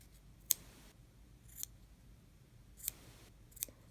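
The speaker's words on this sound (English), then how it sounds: "Take your snips and get rid of these loops here." Small snips cutting through embroidery floss loops on a pom pom, four sharp, close, quiet clicks spaced about a second apart over a faint background hush.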